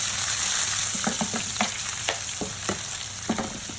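Vegetables sizzle in a hot pan while being stirred, with a steady frying hiss broken by repeated scraping and clinking strokes of a spatula, close up and with no voices.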